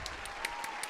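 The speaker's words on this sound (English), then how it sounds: "Everyone clap and say hello." Audience clapping to welcome a guest on stage at a podcast event, a short burst of steady, moderately loud applause with individual claps audible.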